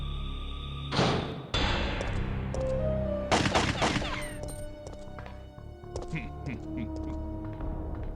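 A custom Western shotgun in the PS1 Resident Evil 3 fires several loud, booming blasts, each followed by a short metallic rack and a ringing tail, spaced unevenly amid game effects and background music.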